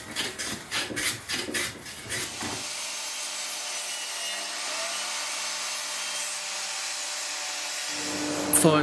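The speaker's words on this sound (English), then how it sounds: "I'm cutting a bevel on the edge of the amplifier." A power tool cuts a bevel along the edge of a wooden phone amplifier: a few rough rasping strokes, then a long steady high whine of the cut, loud and close with no talk.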